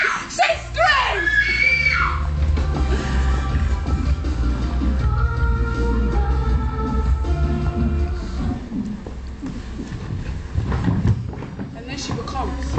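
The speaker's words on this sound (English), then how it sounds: "She screams! She screams! She screams!" A woman screams in a horror film, her cries rising and falling over a dense, continuous backdrop of rumble and noise that carries through the whole stretch.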